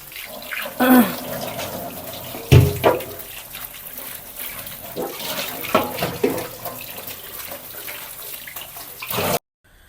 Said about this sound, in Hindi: पहले प्लेट धोते हैं